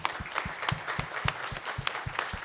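A small audience at a justice, mental health and addictions conference claps in a short burst, individual hand claps distinct and fairly rhythmic, close and moderately loud for a couple of seconds.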